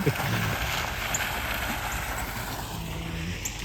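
A waterfall gives a steady, even rush of falling water that fills the whole stretch without pause, heard from a moderate distance in a garden setting.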